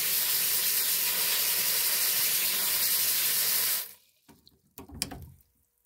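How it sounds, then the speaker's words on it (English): Coarse-grit tumbled garnet stones rinsed under a running tap, a loud steady rush of water for about four seconds that cuts off into a few wet clinks and splashes. "Give them a nice rinse."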